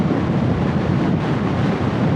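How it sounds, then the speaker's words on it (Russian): Strong wind roars steadily across the microphone, a dense, buffeting rush of noise with no break and no voices. "Ветер вообще сильный дует"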